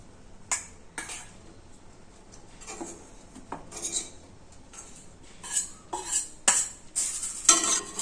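Capsicum curry is stirred in a pan with a spoon, making scattered scraping and clinking strokes that come faster and louder toward the end, close by with no talking.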